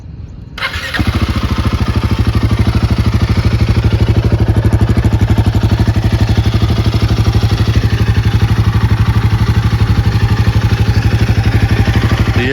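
A Royal Enfield Himalayan 450 idles in neutral, its exhaust starting up and then settling into a loud, close, steady thumping rumble that continues alone throughout.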